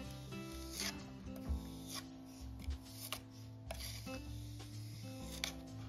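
A slightly bevelled spatula pushes stencil paste through the holes of a stencil in repeated close, soft scraping and rubbing strokes, with no one speaking.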